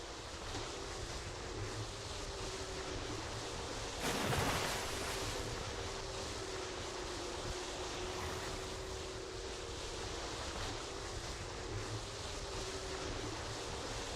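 Simulated ocean waves and wind from a sailing game in Second Life, with waves set to 1.5 meters, make a steady broadband wash and gusting rush that stays even throughout, with a brief louder burst near the start and no talk.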